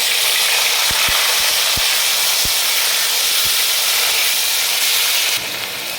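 Onion paste hitting hot oil with five-spice seeds in a pot, a loud continuous broad sizzle and hiss with a few faint ticks underneath, easing slightly at the end.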